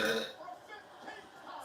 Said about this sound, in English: my wife burps like a dude